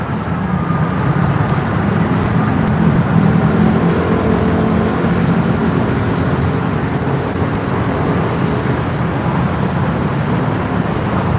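Dense, continuous roar of cars, trucks and buses at the Ha Yaek Lat Phrao five-way intersection in Bangkok, on the outbound side toward Ratchayothin or Kaset, a steady wash of nearby road noise with no talk.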